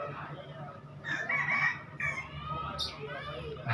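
Chickens clucking and a rooster crowing nearby, several squawky calls in quick succession over a low steady hum.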